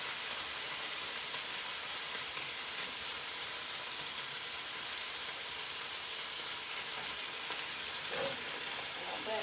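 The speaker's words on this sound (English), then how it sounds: "We love to hear a good sizzle while we're cooking." Steady, dense sizzling of chicken for teriyaki frying in a hot pan, a constant crackling hiss running throughout at close range.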